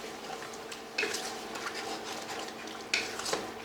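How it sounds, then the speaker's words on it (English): A spoon scrapes and clinks in a pan as beef and broccoli sauce is stirred until it thickens, soft and close, with two sharper utensil knocks standing out over a faint background hum. "we're just looking to stir it around till it thickens up"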